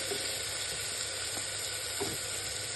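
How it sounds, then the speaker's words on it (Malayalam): Chopped tomatoes sauté in hot oil in a pan for Kerala-style beef curry, giving a steady, close hiss and sizzle with a few faint stirring touches and no talking. "തക്കാളി അരിഞ്ഞിട്ട് കൊടുക്കും നല്ലപോലെ ഒന്ന് വഴന്ന് വരട്ടെ"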